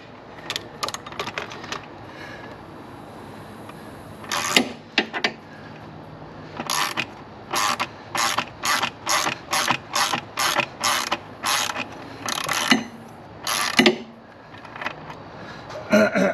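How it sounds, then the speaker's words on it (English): Ratcheting torque wrench tightening fasteners on a Sila Concepts turbo blanket fitted to a Fiat 124 Spider, heard as close, crisp bursts of rapid clicks in short runs with pauses between them, with no talk over the top. "if you want to cinch it down with the torque wrench"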